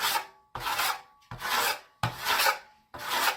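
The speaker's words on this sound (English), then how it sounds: "you can either take it and go like this and scrape it off" Venetian plaster being scraped off a stencil with a tool, five rasping strokes in an even rhythm, each separated by a short pause, close and alone.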